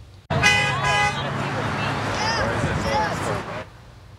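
Car horns honk at a roadside gun-rights rally in Longmont, with a burst of overlapping toots at the start and a continuous blare for about three seconds before cutting off, mixed with voices.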